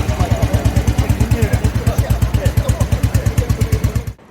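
A vintage motorcycle engine running at a classic bike gathering, a loud, close, steady thumping beat of firing pulses at a fast even rhythm that cuts off abruptly at the end.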